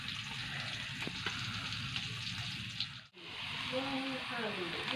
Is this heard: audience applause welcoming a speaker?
no